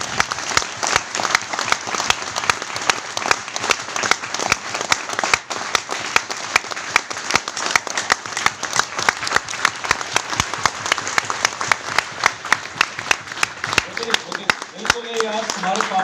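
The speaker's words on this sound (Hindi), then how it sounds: "एक बार तालियां बजा दीजिए, तालियां बजा दीजिए जोरदार।" Loud, sustained audience applause fills the whole stretch with dense, even clapping from a large crowd, fading slightly near the end as a voice begins to come through.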